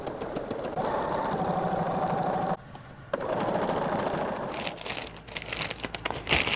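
A sewing machine stitches borders onto a cotton quilt in steady, continuous runs, close and fairly loud, pausing briefly midway before starting again, then ending in uneven, stop-start bursts.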